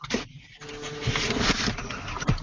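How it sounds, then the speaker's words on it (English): An office printer runs in the background with steady mechanical whirring and patter, fairly faint and heard on its own without speech. "It sounds like it's a printer going on in the background"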